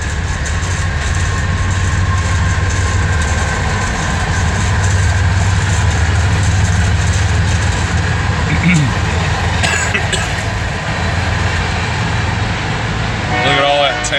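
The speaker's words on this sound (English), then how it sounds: "So we'll watch the train go by" A freight train made up of tank cars rolls past nearby, heard from inside a vehicle as a steady loud rumble with droning mechanical tones and faint squeals late in the passage.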